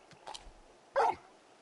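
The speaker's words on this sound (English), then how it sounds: "You're just a big puppy, aren't you?" Large dog companion in Final Fantasy XVI giving a couple of short barks, a soft yip first and then a louder, close single bark, with quiet pauses around them.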